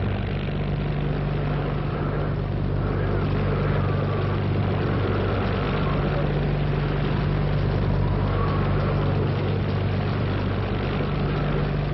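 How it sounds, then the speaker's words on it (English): A boat engine drones steadily and loudly in a 1950 film, a low, even rumble with no pauses. "started the engine"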